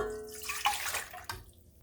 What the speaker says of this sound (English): We are starting with our 1 cup of warm water